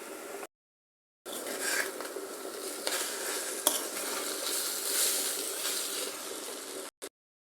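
Beaten eggs, just flipped in a hot pan, sizzle with a steady, bright crackle close by for several seconds, cutting off abruptly at the start and end.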